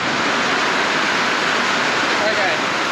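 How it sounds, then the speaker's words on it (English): Heavy rain pours down outside a home while water runs down the driveway, a dense, constant, loud hiss with no break that fills the whole moment. "I was joking about the rain and now it is absolutely bucketing down"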